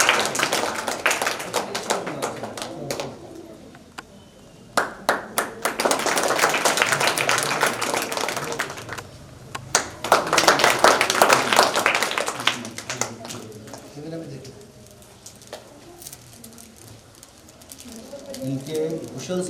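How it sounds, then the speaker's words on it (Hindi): An audience at a madrasa Independence Day program claps to welcome children, with bursts of applause rising and falling in waves between quieter stretches, mixed with talk and crowd murmur. "सब ताली से स्वागत करिएगा बच्चों का।"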